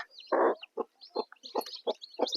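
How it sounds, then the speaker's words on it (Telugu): A hen that has recently hatched a brood of chicks clucks close by, giving one louder, longer call followed by a run of short, evenly spaced clucks with no talking. "ఈ కోడిని ఇది కూడా పిల్లలు చేసింది"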